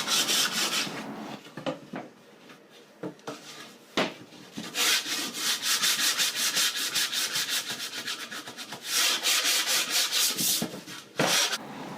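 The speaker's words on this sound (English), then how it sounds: "I decided to use a bit of sandpaper wrapped around a piece of scrap wood just to sand off the edges" Sandpaper wrapped around a scrap wood block rubs along wooden edges with steady back-and-forth strokes that pause briefly now and then, close and fairly loud with no talking.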